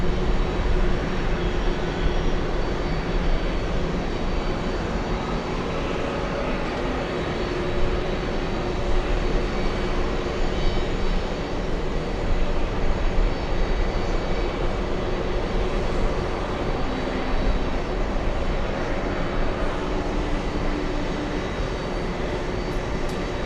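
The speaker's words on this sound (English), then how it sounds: "A 767-400 to Los Angeles." A Boeing 767-400 airliner bound for Los Angeles at JFK, a steady loud jet engine roar that stays broad and even for the whole duration without pauses or speech.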